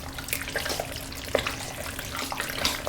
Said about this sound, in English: I'm going to go a little bit more water here.